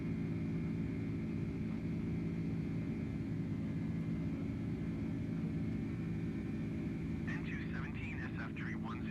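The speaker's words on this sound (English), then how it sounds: "We are currently rolling down the runway, getting ready to lift this bad mother right off the ground" An airplane rolls down the runway for takeoff, its engine a steady, loud, broadband rumble and hum that holds throughout, with a brief voice-like burst near the end.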